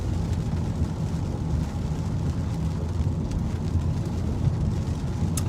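Steady rain hisses over a car driving along an empty road, a continuous broadband wash mixed with low road and engine rumble, with no voices.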